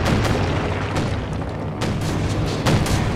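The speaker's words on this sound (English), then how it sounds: "It looks like artillery strikes, probably just more shots from the infantry support gun shooting things" Artillery strikes and infantry support gun shots in the World War II strategy game Company of Heroes 2 make a dense, continuous rumble, with heavy booming impacts landing repeatedly over sustained battlefield noise.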